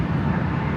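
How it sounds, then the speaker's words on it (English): Embraer E175LR Delta Connection airliner arriving at LAX from San Jose, a steady broadband jet roar, moderately loud and continuous. "Delta Connection flight 4017 coming in from San Jose, California"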